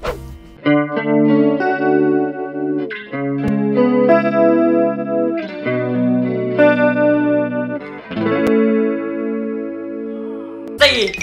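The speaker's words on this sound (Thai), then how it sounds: "สามเสียงคอรัสหวานๆเลยเสียงคลีนอะ" Clean electric guitar chords and picked notes shimmering through a lush chorus effect from a Valeton Dapper Mini pedal, played in slow phrases, close and fairly loud with no talking.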